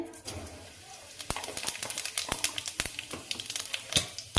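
Whole cumin seeds hit hot oil in a pan, crackling and popping in sharp irregular bursts that grow denser over a faint sizzle, close and alone.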